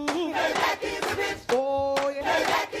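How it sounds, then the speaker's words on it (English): Crowd of Trump supporters shouting and chanting in loud, ragged bursts, with a pause near the middle before the shouting picks up again, close and dense. "We can barely hear what you're saying because of the crowd behind you"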